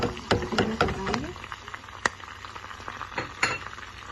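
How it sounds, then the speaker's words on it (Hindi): Garlic, curry leaves, whole chillies and nigella tempering sizzling in hot oil, a steady crackle with a few sharp clinks of a utensil against the pan, under talking. "देखिए ये बघार भी हमने डाल दी, लहसुन, करी पात, साबित मिर्च, कलौंजी"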